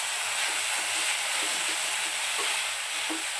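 Dry methi (fenugreek) sabzi fries on a full gas flame, heard as a loud, dense, continuous sizzle and hiss with faint soft stirring taps underneath, close by and without voices.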